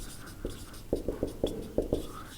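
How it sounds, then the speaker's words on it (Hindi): Pen or chalk on a board during a chemistry lesson, a brisk series of short taps and scratchy strokes, close and clear, with no talking over it. "यहां पे लिख लेते हैं"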